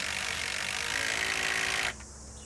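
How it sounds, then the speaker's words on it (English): A power driver sinks landscape screws into timber sleepers for a raised garden bed, a steady high whirring buzz held for about two seconds before it cuts off sharply and leaves low background noise. "Butt the sleepers up against the pre-drilled holes, screw them in place"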